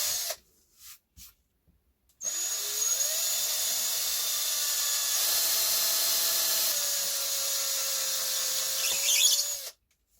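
A power drill bores a hole into a wooden bench hook with a 1/8 inch bit: after a few brief knocks, the motor whines steadily and loudly for about seven seconds, then stops abruptly.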